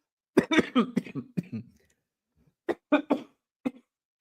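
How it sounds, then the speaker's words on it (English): A burst of rough, close coughs runs together, then after a short pause two or three more hacking coughs follow, loud and alone. "You got to cough."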